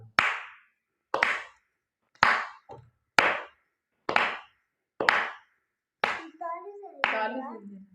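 Hands clap out a rhythmic taal beat, six crisp evenly spaced claps about a second apart, close and loud, followed by a short stretch of sung or spoken voice.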